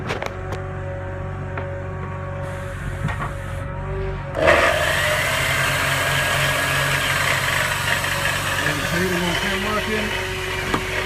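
Winton under-mounted prop-shaft driven compressor generator running, a steady mechanical engine hum and whine that rises in intensity partway through, with people speaking over it.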